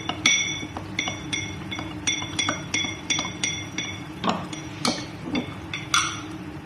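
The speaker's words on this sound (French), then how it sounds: "je mélange avec une petite cuillère" Small spoon mixing a liquid batter for Nigerian meat pie, producing a steady series of bright metallic clinks against the bowl, close and fairly loud with no talk.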